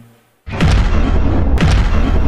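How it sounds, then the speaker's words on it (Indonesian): A sudden massive boom erupts from silence into a sustained, roaring low rumble, with a second blast surging in partway through. "ledakan hebat setara ribuan kali bom nuklir pun tercipta"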